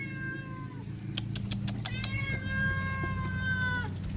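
A hungry cat meows repeatedly at a motel door, giving several close, clear, drawn-out meows over a low steady background hum.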